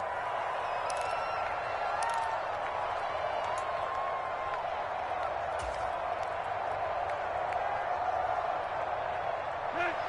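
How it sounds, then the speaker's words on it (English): A stadium crowd at an American football game builds ahead of a big third down, a steady broad roar with scattered claps and shouts running under it throughout. "the crowd getting into it as we come up on a big third down"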